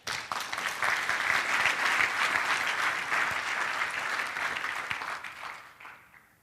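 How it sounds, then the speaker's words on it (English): An audience applauds a man named Greg at a seminar, a steady wash of many clapping hands that holds for several seconds and then fades out toward the end. "everybody clap it for Greg"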